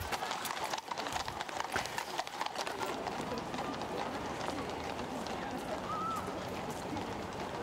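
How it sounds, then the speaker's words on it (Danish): White Kladruber horses draw the royal golden carriage through city streets at a New Year procession, their hooves clip-clopping steadily amid a dense crowd and street noise, with voices talking throughout. "kladroberne, altså de her hvide heste, som trækker selve karetten"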